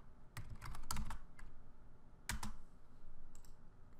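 Excel keyboard shortcuts typed on a computer keyboard, giving scattered clusters of quick, close key clicks with short pauses between them and no talk.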